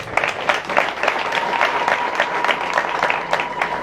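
Schoolboys at a high school book launch clapping, a fairly loud, steady, rhythmic patter of many hands from a crowd, with no one talking over it.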